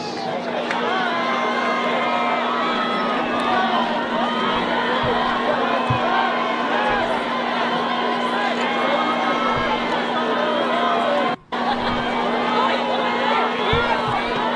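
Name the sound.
football crowd cheering a first down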